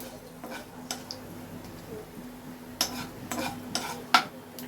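Spices frying in a pan for palong paneer, a soft steady sizzle with occasional scraping clicks of a spoon stirring, quiet and close, under a faint background hum.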